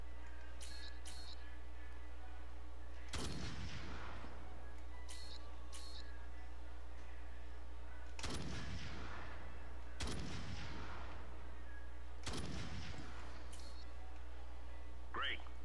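Gunfire in a video game: several sharp shots spaced irregularly apart, each followed by a short decay, over a steady low hum with faint clicks between them.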